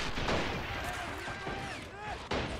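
Mortar and gunfire in a Men of War: Assault Squad 2 online 2v2 match, dense overlapping battle sounds with a sharp blast near the end, running under a commentator's talk.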